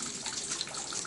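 Water rushes through a partly opened valve in a Reynolds experiment flow apparatus, a steady hissing, splashing flow at moderate level, continuous and close, with no voices over it.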